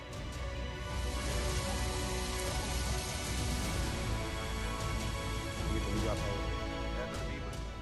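Heavy torrential rain pours steadily and loudly throughout, a dense continuous roar of falling water with no clear pauses.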